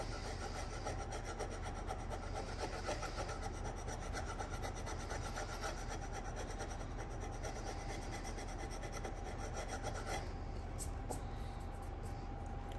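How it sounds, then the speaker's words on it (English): A hand scraper draws steadily along the wooden stock of a Winchester Model 60A rifle, giving a continuous close rasping scrape that holds an even rhythm throughout, with no one talking. "just make sure that the motion of the scraper is consistent and it doesn't have any hang-ups"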